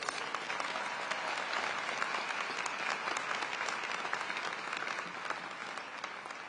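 A large graduation ceremony crowd at Howard University applauds, a dense, even wash of clapping heard from a distance, sustained and fairly soft throughout.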